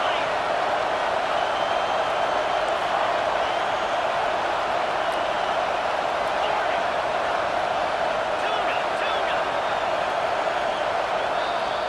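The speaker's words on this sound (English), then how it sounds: "This crowd rising up, sensing that its defense needs some help." Dense, steady stadium crowd roar from a college football video game, Georgia hosting Clemson near the goal line, rising continuously at a loud level throughout with no clear breaks.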